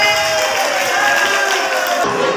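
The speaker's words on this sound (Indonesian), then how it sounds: "Tepuk tangan." Audience at an Isra Mi'raj religious lecture bursts into sustained applause mixed with crowd cheering and some voices, loud and steady throughout before briefly thinning near the end.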